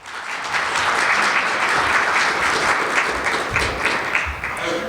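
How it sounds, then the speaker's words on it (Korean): An audience at a business CEO forum gives sustained applause as a speaker is welcomed to the stage, a dense steady wash of many hands clapping that swells quickly and holds at even loudness throughout, with no talk over it. "큰 박수 부탁드리겠습니다"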